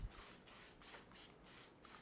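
Cooking oil sprayed onto baking paper for marshmallow in a home kitchen: several short, soft hissing bursts in a fairly even rhythm, faint and close, with no voices.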